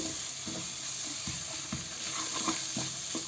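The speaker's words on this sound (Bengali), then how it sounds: "পেঁয়াজ রসুনটা ভাজার সাথে মশলাগুলো একটুখানি হালকা নাড়াচাড়া করে" Spices stirred into frying onion and garlic, a steady close sizzle with soft intermittent spatula strokes scraping the pan, no voices.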